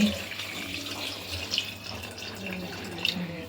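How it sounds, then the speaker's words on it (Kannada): Water running steadily into a pressure cooker holding dal and chopped tomato for sambar, a continuous close splashing pour with no talk over it. "ಇಷ್ಟು ನೀರು ಹಾಕಿದ್ದೀನಿ."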